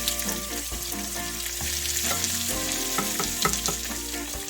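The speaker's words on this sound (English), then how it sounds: "You can probably hear that crackling. That's not me, that's the actual food cook." Sweet potatoes fry in a pan for a Spanish tortilla, giving a loud, close, continuous crackle and sizzle with busy popping.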